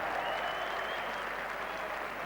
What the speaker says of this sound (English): Broad applause from sections of the crowd, the England supporters